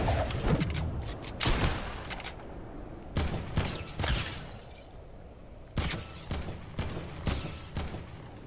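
Gunfire in a Fortnite match comes in bursts of sharp shots and short volleys, some closer and louder, others fainter, separated by brief lulls of game ambience.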